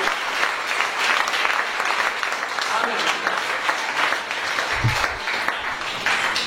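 Church congregation applauding loudly and continuously during an evening worship conference, a dense wash of clapping with crowd noise throughout.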